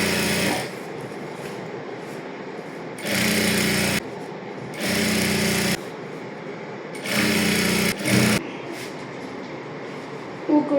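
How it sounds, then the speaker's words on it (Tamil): Sewing machine stitching along the border of a silk blouse for a child's half saree, running in four short whirring bursts of about a second each with quiet pauses between, close and loud. "அந்த பார்டரில் தையல் வர மாதிரி தைக்கணும்"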